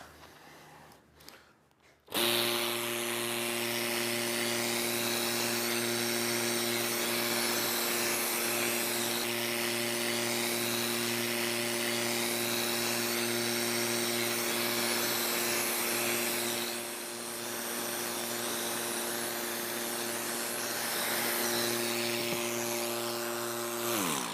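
A Gast pump's electric motor is plugged in and runs loud and close, a steady drone with a strong hum and whine that holds for over twenty seconds, starting abruptly after a short quiet moment.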